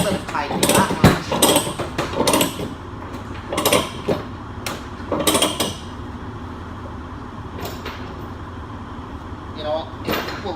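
A chain being tightened down with a ratchet during coil work, heard as bursts of ratcheting clicks and mechanical clanks spread across the stretch, with quieter gaps between them.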